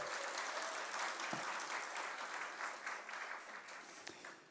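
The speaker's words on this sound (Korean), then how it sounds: "우리 사나 사모님을 위해서도 한번 박수." Church congregation in Auckland at an ordination service applauding the accompanist, a soft, distant spread of clapping that holds steady and then thins out toward the end.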